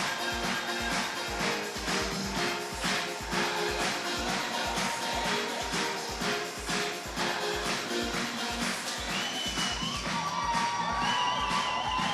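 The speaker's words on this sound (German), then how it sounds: "Noch einmal jubeln Sie, was das Zeug hält" At a German championship final, a large crowd cheers and shouts steadily and loudly while a heavy, pounding beat of music drives beneath the noise.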